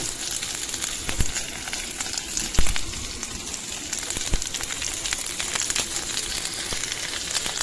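Green chillies and onions sizzle steadily in a hot pan for a Tamil vallarai keerai chutney, a dense continuous crackle with a few sharper pops, close and fairly loud, no talking.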